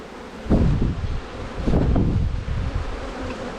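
Honeybees buzzing around a newly installed hive, a dense close drone that rises and falls with rustling handling noise and light wind on the microphone.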